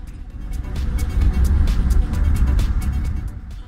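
A Mercedes-Benz CLA45 AMG running on a 3.4-mile race track, its engine note rising and falling with road roar and a sequence of sharp clicks and pops, moderately close and without speech.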